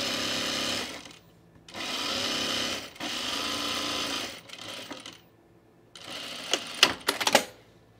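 A sewing machine stitches fabric strips for a bathroom rug in three steady runs of about a second each, with brief pauses between them, followed by light clicks and rattling handling noises.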